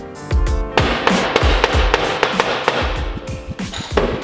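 Repeated sharp metallic hammer strikes on an Audi R8 exhaust, a dozen or more in an irregular rhythm, close and loud with ringing after each blow.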